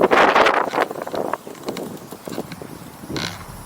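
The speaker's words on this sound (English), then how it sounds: "so the wind's picked up" A strong wind gust ahead of a storm buffets the microphone beside a lake in Florida with a loud rumbling roar, then fades to lighter gusty noise.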